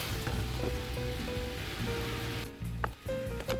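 Pork-wrapped green onion (daepa) sizzles in a pan over medium heat, a steady crackling fry with soft popping that continues throughout under background music, briefly thinning near the end.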